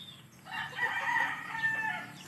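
A rooster in a backyard coop of native chickens crows loudly and close in one drawn-out call, with soft clucking from the flock around it.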